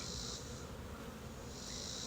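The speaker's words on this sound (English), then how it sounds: "Just bees doing their work." Honeybees buzz in an open hive during a July inspection, a soft, continuous hum of many insects close by, rising in pitch at the start and end, with no talk.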